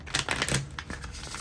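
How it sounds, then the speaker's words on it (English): A thick deck of cards being shuffled, a quick run of soft riffling clicks close to the mic, over roughly a second and a half. "I like to shuffle this one properly before I start because it is a thicker deck"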